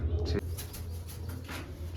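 Pigeons coo in a loft housing racing birds, a steady low cooing that runs throughout, loud at first and then softer, with faint rustling and occasional higher sounds above it.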